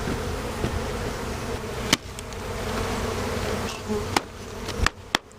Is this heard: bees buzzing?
yes